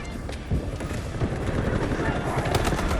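Automatic rifle fire in the Delta Force shooter game, an ASH-12 among the weapons, rattles as dense continuous bursts that fill the whole stretch, loud and near over a busy battle din.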